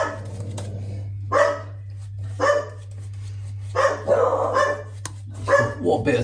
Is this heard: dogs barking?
yes